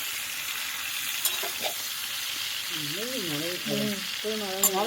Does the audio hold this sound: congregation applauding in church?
no